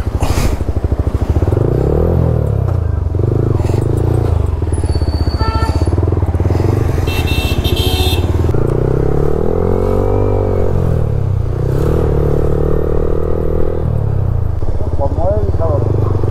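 A Yamaha R15 motorcycle fitted with a modified exhaust idles and rumbles steadily through a roadside stop, its engine note constant and loud beneath continuous talking voices.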